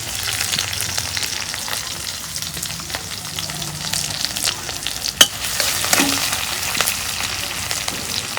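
Chopped onions and green chillies sizzle and fry in hot oil in a pan for a Bangladeshi raw banana and fish curry, with a steady crackle, occasional stirring scrapes and a sharp clink near the middle.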